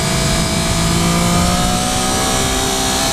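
A 2013 Triumph Daytona 675R's engine drones steadily while riding off the throttle, a loud, close, continuous hum with wind rush and no talking.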